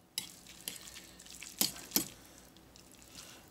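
Garlic paste being stirred into a purple deadnettle, dandelion and pecan pesto, giving a few soft scraping clicks and wet taps spread over a few seconds, faint and close with no talking.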